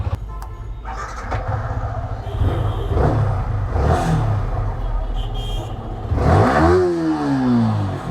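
A Yamaha R15 V3 motorcycle in worn condition starts and idles loudly close by, its engine rumbling steadily before a rising rev near the end.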